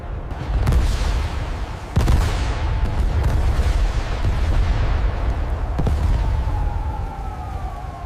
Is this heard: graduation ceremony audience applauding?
no